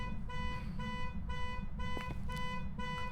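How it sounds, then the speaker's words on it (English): Car alarm in the ghost-hunting game Phasmophobia blares in a steady, repeating electronic whoop that cycles every half second or so, loud and continuous over a low rumble, with a couple of brief clicks near the end. "The key's usually at the front of the door, and you need that to stop the car alarm."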